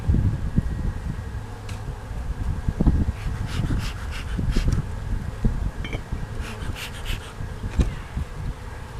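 Honey bees from a hive opened for a nurse bee split fill the air with a steady, close buzzing drone, with no voices.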